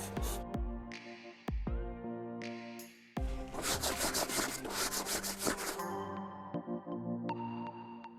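A brush scrubs the top of a hunting pack in repeated rubbing bursts, close and fairly loud, with a denser stretch of rapid strokes midway and no talking.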